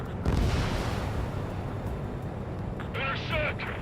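Anti-aircraft fire in Ace Combat 7 forms a heavy, continuous rumbling barrage with deep booming, loud throughout, and a voice cuts in briefly near the end.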